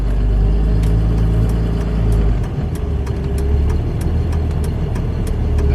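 A vehicle with a 48RE automatic transmission pulls away from a stop, the engine's steady low hum shifting pitch as it starts driving, with faint ticking noises over the top; loud and close from inside the cab, no talking.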